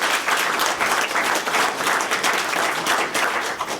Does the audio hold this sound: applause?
yes